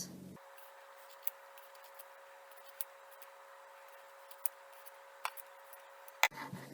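Quiet, sparse snips and clicks of scissors cutting through the yarn wrapping of a percussion mallet, spaced a second or so apart over a steady background hum.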